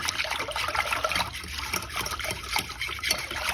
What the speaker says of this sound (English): I'm going to pour it over my beef.